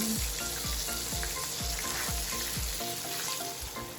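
Cauliflower steaks crisp up in a pan, a steady sizzle running underneath a series of regular low thumps, with the frying hiss continuing alone toward the end.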